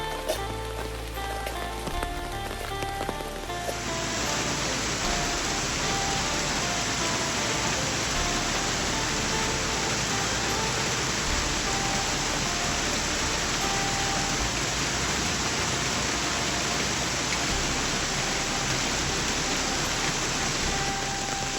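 Heavy morning rain pouring down at a house, a dense, steady roar of drops on surfaces that starts after a few quieter seconds and then continues unbroken and loud.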